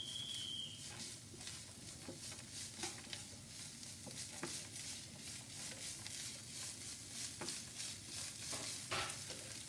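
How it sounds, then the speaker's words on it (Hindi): Peanuts roasting in a potato masala in a pan, a faint steady sizzle broken by frequent soft stirring scrapes and light taps throughout, heard at a distance with no voices. "फिर उसे हम लोग ऐसे मिला लेंगे। और अच्छे से भून लेंगे।"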